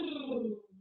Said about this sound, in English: You can do what's called a lip trill, which sounds like this,